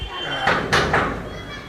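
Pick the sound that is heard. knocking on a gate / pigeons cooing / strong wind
knocking on a gate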